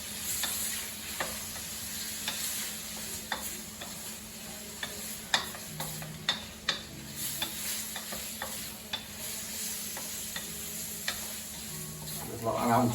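Prawns sizzling in a frying pan as they finish cooking, a steady broadband hiss with scattered sharp pops and ticks, with a faint voice at one point.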